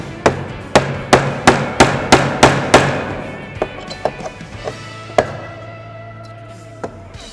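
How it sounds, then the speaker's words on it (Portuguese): Nail hammered into a wooden spool wheel to mark a screw hole: a run of about eight sharp, evenly spaced knocks, then a few softer irregular taps and one more firm strike, close and alone without talk. "Então eu vou marcar com um prego o furo onde eu vou colocar o parafuso."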